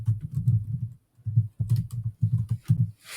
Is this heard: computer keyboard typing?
yes